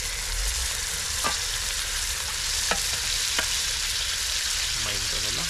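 Small pieces of silver fish fry in a pan with a loud, steady sizzle, broken by a few brief stirring scrapes.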